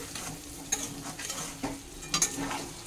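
Mango pieces and sugar for a sweet and sour pickle are stirred in a pan, with soft scraping strokes and light clinks over a quiet sizzle, close and fairly faint, and nobody talking.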